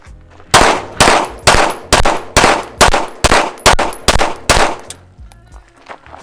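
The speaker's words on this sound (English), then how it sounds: "We're gonna shoot." Handgun fired through a Vortex Venom enclosed red dot at a range, about ten loud, sharp shots in a quick, fairly even string, each with a brief ring, then quiet.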